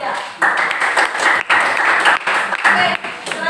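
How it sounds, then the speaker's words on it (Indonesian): A classroom of students claps for a presenting group, a short burst of fairly close, uneven applause with brief dips, lasting a few seconds. "berikan tepuk tangan untuk kelompok 2"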